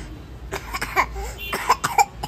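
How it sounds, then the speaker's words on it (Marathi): Several harsh coughs burst out in quick succession, close and fairly loud, with short gasping pauses between them. "लईच खोकला यायला ग बाई"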